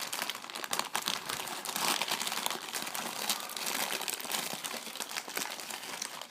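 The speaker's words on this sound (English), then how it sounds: "let's break them out of their packaging" Plastic packaging on a 2000 McDonald's Disney toy figure being torn open, dense crinkling and crackling up close, with irregular rustles and small snaps continuing throughout.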